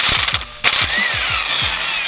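A ratchet on a 24 mm alternator pulley nut clicks in quick repeated strokes, close and loud, with a brief burst of mechanical noise partway through.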